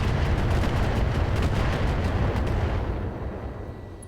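Mech weapons firing in RogueTech, the BattleTech mod, as a dense sustained barrage of booming impacts and rumbling blasts that stays loud throughout and then begins to fade near the end, with no voices over it.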